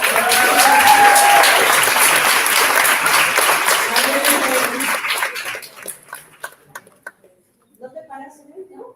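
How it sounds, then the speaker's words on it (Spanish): Classroom applause for a student named Suney, dense clapping mixed with chatter that thins out and fades to scattered sounds and silence, with a dog also barking nearby. "Vamos a darle un aplauso a Suney"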